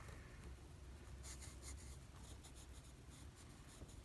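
A pencil scratches and rubs across paper in an art journal, close and quiet, with short bursts of marking strokes over a soft background hiss.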